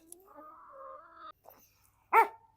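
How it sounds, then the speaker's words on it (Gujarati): A dog near a shop in Leicester gives soft whining and whimpering sounds, then one sharp, fairly close bark after a short pause. "જો આ ડોગી પણ હે બહુ ભયાનક છે"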